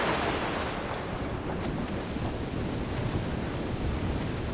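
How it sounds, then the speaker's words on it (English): Rough sea waves and gusting wind in Assassin's Creed 4 Black Flag, a continuous rushing surge of surf with wind noise, fairly faint and steady with no voices. "Dark skies and rough seas there!"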